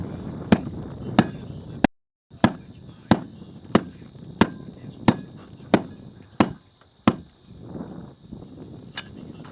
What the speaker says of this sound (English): tamp it down so they're all bulging